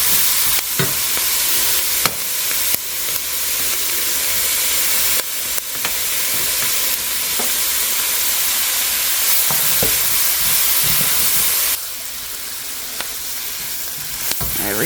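Garlic sizzles and fries in a pot of white chicken chili chowder while being stirred, a steady close hiss broken by scraping stir strokes, continuing alone without talk.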